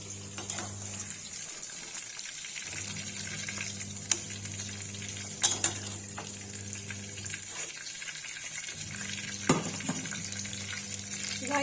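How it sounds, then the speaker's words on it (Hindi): Bottle gourd (lauki) pieces fry in oil for a Kashmiri-style lauki yakhni, giving a continuous moderate sizzle with occasional sharp spatula taps and clicks. "देखिए लौकी फ्राई होगी"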